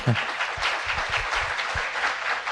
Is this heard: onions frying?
no